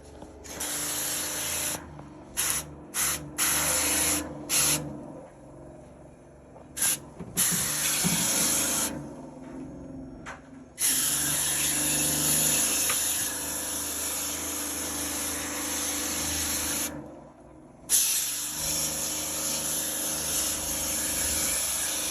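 Spray cleaner hisses in repeated bursts onto a badly clogged coil from a 1980 ceiling fan, short blasts with gaps, then longer sustained spraying, close and fairly loud.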